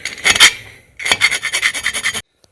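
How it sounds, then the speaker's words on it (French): Hand file rasping across the cylinder head of an MBK 51 moped engine, close up: a short burst of strokes, a pause, then a run of about nine quick, even back-and-forth strokes, with no talking. "sur la culasse là, le petit passage à la lime"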